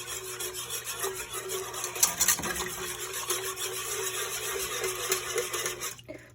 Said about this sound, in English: I'm gonna take out my spoon for a minute and bring my whisk back